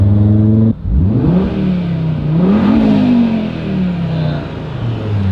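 A turbocharged four-cylinder Audi RS3 with a carbon intake revs in neutral: loud, close, a sharp blip followed by rising and falling sweeps of engine pitch, then settling back toward idle.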